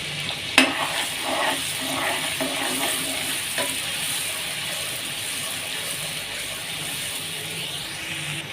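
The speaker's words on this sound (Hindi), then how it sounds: "प्याज हमारी गोल्डन हो रही है।" Finely chopped onion fries in oil in a kadai, giving a steady close sizzle with occasional clinks and scrapes of stirring, one sharp tap near the start, and no voices.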